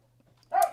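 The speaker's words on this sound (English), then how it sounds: "sorry, that's my dog." A pet dog gives a single close, sharp bark after near silence, with a faint low hum in the background.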